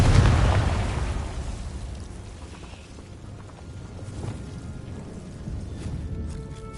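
Confringo fire-spell explosions in the video game Hogwarts Legacy: a loud booming burst at the start that rumbles away, followed by lower, softer blasts and crackle.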